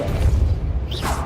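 Incendio and Depulso spells cast in the Hogwarts Legacy video game, a low rumbling boom followed by a rising whoosh and a quick sweeping swish, loud and close with no talking.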